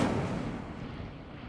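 An Incendio fire spell is cast in the video game Hogwarts Legacy, a short, muffled, rumbling burst that starts strong and fades away over about a second and a half, fairly faint and heard alone.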